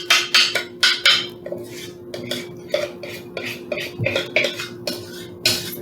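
A metal spoon scrapes and clinks against a mixing bowl, pulling out peach cobbler batter in a quick run of close, sharp taps and scrapes with brief pauses between strokes.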